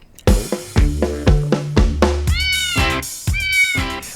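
A person imitates a cat, meowing loudly and repeatedly, about seven close, drawn-out meows in a quick, uneven sequence, during a game.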